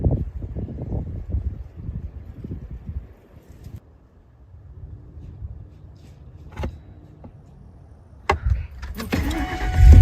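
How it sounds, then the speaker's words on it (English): A car engine cranks and catches outdoors near windy woods at night, following quiet rustling and thuds; the start comes late, loud and close, then settles into a running rumble. "started her car and left"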